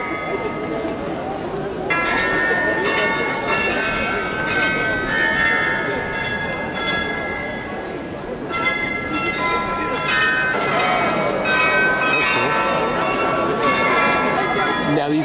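Marienplatz clock tower bells in Munich ring out in repeated tonal strikes across a busy main square, loud and sustained for the full stretch, layered over a steady wash of crowd noise.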